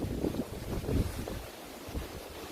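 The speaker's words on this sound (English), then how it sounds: "Obviously trying to avoid as much as I can when the wind picks up." Wind gusts across the microphone on an outdoor woodland trail, producing a low, rumbling buffeting that rises and falls in uneven surges with no one speaking.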